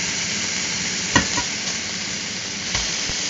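Boneless pork chops sizzle steadily in a hot pan, with a soft clatter and a brief louder burst of frying as they are flipped over, then a quieter thump near the end.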